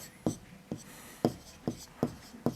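A pen writes fractions on paper: six short, sharp scratches spaced about half a second apart, close and soft, with no talking.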